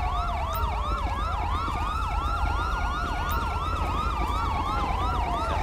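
A wailing police siren in Grand Theft Auto V sweeps up and down steadily and loudly, with a second siren tone layered beneath over a low engine rumble.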